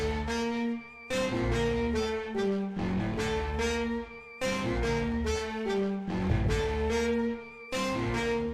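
A beat plays with its drums removed, leaving only tonal parts: sustained chords and melodic notes that start and stop in choppy sections with short gaps between them. The sound is moderately loud and has no voices.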